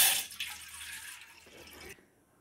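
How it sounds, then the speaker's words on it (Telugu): A glass of water is poured into a cooking pot for an herbal leaf decoction, a short splashing rush that is loudest at first, tapers off with a few drips, and ends in near silence. "ఈ గ్లాస్ నీళ్ళు పోసాం కదా"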